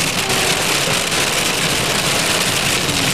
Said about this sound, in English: We're in Clingmans Dome, it's hailing